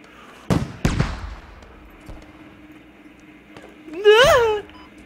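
Two sharp, heavy blasts land close together from a grenade in the squad shooter game Squad, followed a few seconds later by a loud drawn-out shouted voice.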